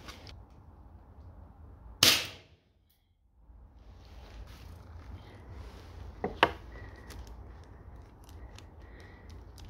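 A Dan Wesson 8-inch air pistol fires a steel BB: one sharp, loud crack, then a brief hush, and a few fainter clicks and taps follow against quiet background noise.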